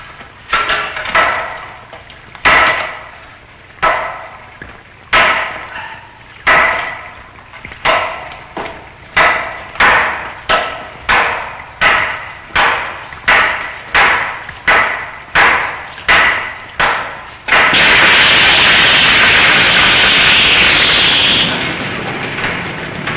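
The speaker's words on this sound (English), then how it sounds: "I brought 2 hammers, you know." Repeated heavy hammer blows strike a wall, about twenty loud, evenly spaced impacts that speed up, then give way to a sustained crumbling rush of debris as the wall breaks open.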